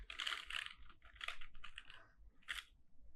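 Data is typed on a computer keyboard in short bursts of quick, quiet key clicks separated by brief pauses, close and soft.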